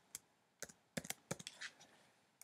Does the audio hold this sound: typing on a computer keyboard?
yes